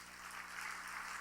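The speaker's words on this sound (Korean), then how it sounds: "박수 한번 하세요." Congregation applauding during a Sunday evening church service, a steady broadband wash of clapping hands heard throughout at moderate level, with no clear talk over it.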